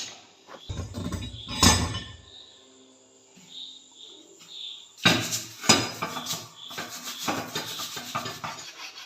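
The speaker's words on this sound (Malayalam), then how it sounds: "എല്ലാം നന്നായിട്ട് ഞാൻ തേച്ച് കഴുകി വൃത്തിയാക്കി വയ്ക്കും" Pots and dishes being scrubbed and rinsed during a night-time kitchen cleanup around the stove, with intermittent clinks and scraping clatter, close by and in bursts, while birds coo faintly in the background.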